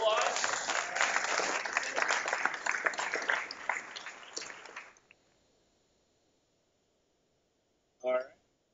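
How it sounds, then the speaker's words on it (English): Applause from a crowd fills the first five seconds, dense clapping that stops abruptly, followed by silence and a short voice near the end. "Let's give Jason a big round of applause."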